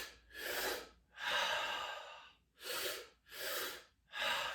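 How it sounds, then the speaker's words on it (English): Deep breaths drawn in through the mouth during a breathwork exercise, five or six long airy inhales and exhales in a slow even rhythm, close and quiet, with no talk. "Now you're breathing in through your mouth."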